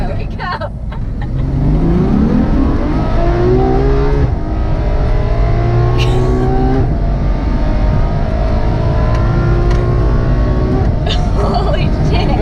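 A Ferrari F12 Berlinetta in race mode accelerates hard on a road, its engine note climbing through the gears in rising, howling sweeps with brief dips at each shift, loud and continuous from inside the car.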